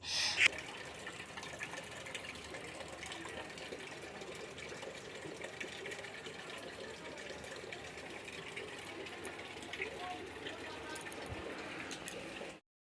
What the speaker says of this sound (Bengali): আমি বালতিটাকে রেখে এখন জলের ড্রামটাতে জল ভরতে বসিয়ে দিচ্ছি